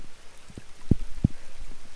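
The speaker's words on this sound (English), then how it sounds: "I don't think I can fish in this rain for too long." Heavy rain falls steadily with a soft continuous patter, punctuated by a few louder, heavier drops striking close by.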